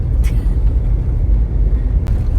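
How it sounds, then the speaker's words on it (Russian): A BAW 212 SUV drives over a washboard dirt road with deep potholes, giving a loud, close cabin rumble with jolts and a couple of sharp knocks from the suspension. "Вот мы едем по грунтовке, и местами есть гребенка с глубокими ямками."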